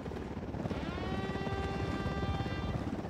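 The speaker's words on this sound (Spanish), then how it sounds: "Helicóptero, cubríos." A helicopter in the video game Ghost Recon Wildlands, a steady loud rotor chop with a droning whine filling the whole stretch without letup.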